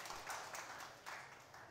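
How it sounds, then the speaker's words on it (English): An audience applauds at a web series launch event, a faint, steady wash of many hands clapping in rhythmic swells with no voices over it. "Can we please have a huge round of applause"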